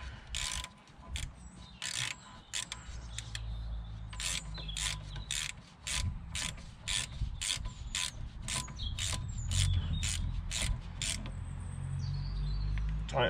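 A Volvo brake caliper bolt being tightened with a ratchet wrench, giving a long run of sharp, evenly spaced clicks close up with some low rumbling behind.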